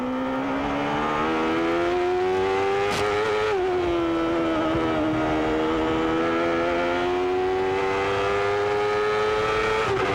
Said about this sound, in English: Squeezing every horsepower out of that Chevrolet engine trying to catch Mansell